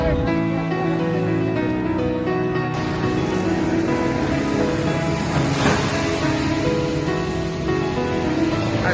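Sea waves wash ashore in a continuous broad rush of surf, with steady wind noise over the whole stretch and no pauses.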